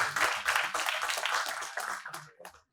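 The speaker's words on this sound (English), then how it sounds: "With a huge round of applause" An audience at a consulting conclave breaks into a dense round of applause to welcome a speaker, steady, close clapping that thins out toward the end.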